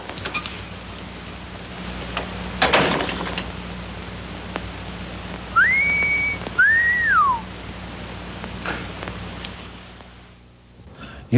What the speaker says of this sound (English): maybe just whistle